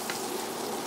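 Beyond Meat burger patty sizzling in a frying pan, a brief, dense, even hiss of hot fat at close range, with no voices.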